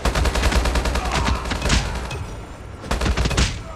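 An HBRa3 assault rifle in Call of Duty Mobile fires loud, rapid automatic bursts, a long stream of shots, a brief pause, then another short burst.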